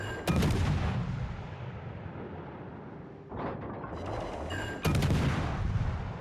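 Naval guns firing in the World of Warships video game: two heavy booming salvos, loud and close, each followed by a long rumbling decay.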